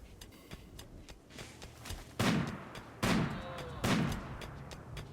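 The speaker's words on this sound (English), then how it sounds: "It's so fun hearing gunshots." Gunfire in the video game Rimworld, with three sharp loud shots spaced about a second apart over a faint busy game background.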